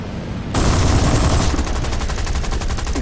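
A sudden burst of rapid aircraft cannon fire during a strafing run in War Thunder begins after a short pause and continues in a fast, loud, continuous stream.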